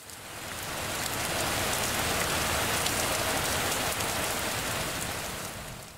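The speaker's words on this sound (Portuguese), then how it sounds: "escute o sussurro da chuva caindo e batendo contra as folhas da macieira" Rain falling steadily onto apple tree leaves, a dense even patter that swells in and fades out, close and alone with no voices.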